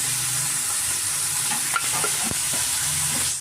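Onions and spring onion fry with turmeric in a pan, giving a steady broadband sizzle throughout, with a few faint scrapes and clinks of stirring near the end.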